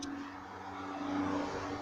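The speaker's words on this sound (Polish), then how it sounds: "Sobie jechał samochód." A car drives past at a distance, a faint broadband swell that rises and fades over a low, steady hum.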